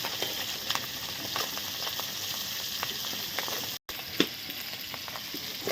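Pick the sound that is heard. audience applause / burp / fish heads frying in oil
fish heads frying in oil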